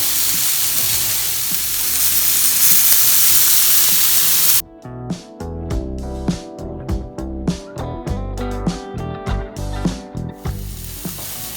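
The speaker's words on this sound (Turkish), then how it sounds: "Etimiz dinlenirken sebzelerimizi biraz daha kızartalım, iyice öldürelim" Loud hissing sizzle of vegetables and beef frying in a hot pan, then rhythmic scraping and clattering as they are stirred and tossed.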